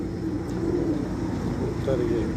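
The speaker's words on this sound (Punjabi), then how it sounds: "ਇਹ ਕਿਹੜਾ ਕਬੂਤਰ ਹੈ ਉਸਤਾਦ ਜੀ?" A pigeon coos steadily at a rooftop loft, close and fairly loud, with a continuous low background hum.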